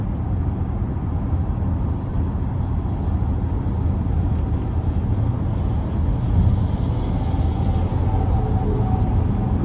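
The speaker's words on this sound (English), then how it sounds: "I love that sound from the V6." Cadillac XT6 V6 engine in a 2025 Premium Luxury AWD SUV under acceleration, a steady low droning hum mixed with road and cabin noise, with no voices.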